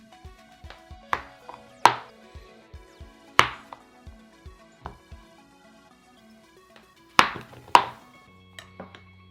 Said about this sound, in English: Now give me a minute to slice up the rest.